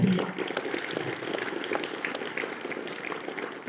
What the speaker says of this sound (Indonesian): mari kita beri dulu tepuk tangan sebagai apresiasi